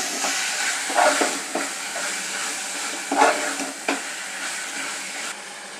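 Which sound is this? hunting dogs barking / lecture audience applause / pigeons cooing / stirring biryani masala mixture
stirring biryani masala mixture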